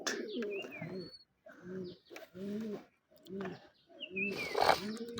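Native pigeon chicks make low, throaty cooing calls in repeated bursts close by, with a few thin squeaky whistles between them.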